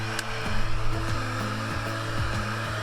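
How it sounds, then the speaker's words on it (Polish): A hair dryer blows steadily at close range over the surfaces of a Bark BT 310 inflatable pontoon boat while it is being refitted, giving a constant humming whir with faint periodic pulsing and no talk. "suszarką obsuszamy teraz elementy i powierzchnię"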